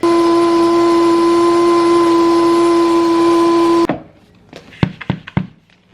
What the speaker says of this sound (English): So I am gonna grind some of this up.